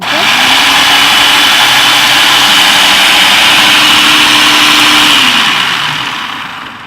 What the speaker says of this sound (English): you're just going to let the food processor do the work